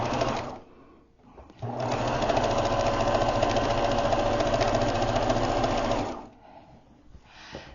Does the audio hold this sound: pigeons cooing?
no